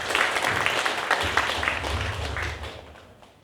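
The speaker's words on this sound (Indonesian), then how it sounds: "Coba tepuk tangan." Audience applause at a university graduation ceremony, a steady spread of many clapping hands over low background rumble, fading out toward the end.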